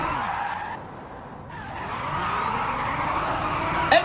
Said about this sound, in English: We're backwards drifting right now.